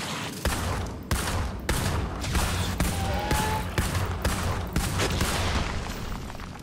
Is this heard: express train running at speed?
no